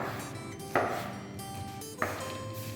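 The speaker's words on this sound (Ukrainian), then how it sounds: "Його треба е, порізати на шматочки. Починаємо різати." A knife cuts a skinless, boneless fish fillet into pieces. Two distinct, fairly quiet chops land about a second apart against a low background hum.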